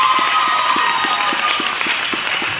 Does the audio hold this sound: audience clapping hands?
yes